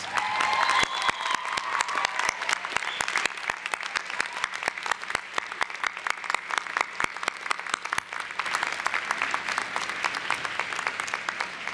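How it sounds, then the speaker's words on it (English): A large convocation crowd of graduates claps long and steadily for their parents, family and friends, a dense rolling wash of applause. "giving them a big round of applause"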